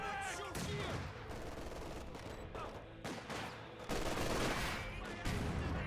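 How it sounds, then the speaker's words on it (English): Dense gunfire and explosive mortar barrage in the WWII strategy game Company of Heroes 2, with loud, overlapping bursts and booms hitting continuously, several sharp blasts standing out near the middle and end, and a voice faintly talking underneath. "Mortars running in, so got a bit of counter barrage here."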